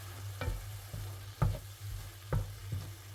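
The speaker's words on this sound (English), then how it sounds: "So just browning the mince." Ground beef mince, about 500 grams, browning in a pan: a steady low sizzle with several sharp scraping stirs at irregular intervals, close and fairly quiet, no voices.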